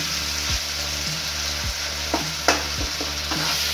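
Tomatoes sizzle steadily in a hot pan while a spoon stirs and scrapes them in repeated strokes, roughly every half second to second, with a couple of sharper knocks against the pan, close up and without any talking.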